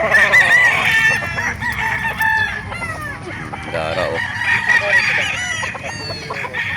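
Gamefowl roosters crow repeatedly over steady clucking from several chickens nearby at a chicken market in Calauan, with brief talk mixed in.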